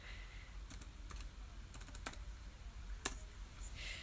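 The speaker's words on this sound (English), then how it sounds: "So, I'm just gonna type in something now." Keys clatter on a computer keyboard in scattered taps and short bursts, with one sharper keystroke near the end, fairly close against a quiet room and with no talking.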